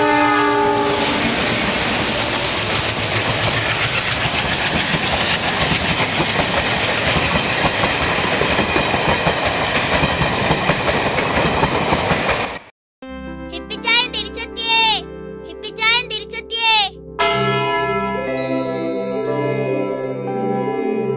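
A train rumbles past with a long, loud, steady horn blast over the clatter for about twelve seconds, then the sound cuts abruptly to music.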